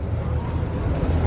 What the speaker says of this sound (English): My boy driving the boat.